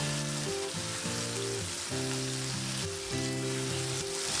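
Finely chopped tomato fries in a pan for a Marathi stuffed onion curry, giving off a steady, close sizzle for several seconds. A melodic music bed plays underneath, and no one speaks.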